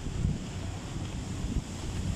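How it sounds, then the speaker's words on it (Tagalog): Strong typhoon wind buffets the microphone outdoors, a steady, roaring low rumble with gusty swells throughout and no voices. "Malakas na yung hangin."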